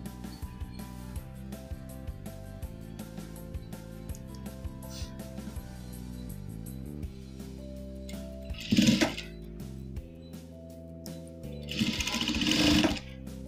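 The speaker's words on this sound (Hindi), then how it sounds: "वहां से फिर से सिलाई शुरू करेंगे" A sewing machine stitching fabric for a face mask, running in a fast, steady mechanical rhythm close by, pausing briefly twice, with some fabric handling noise between the runs.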